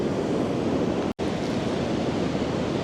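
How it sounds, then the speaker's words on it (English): Larger sea waves surging in against coastal rocks, a close, continuous roar of surf and spray with wind noise, broken by a brief dropout near the middle before the wash resumes. "we've got a couple of larger waves coming in"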